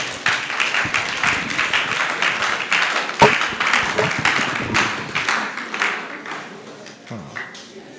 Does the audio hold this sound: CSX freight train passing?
no